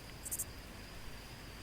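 Crickets chirp faintly on quiet streets at night, one brief high trill standing out over a soft steady hiss.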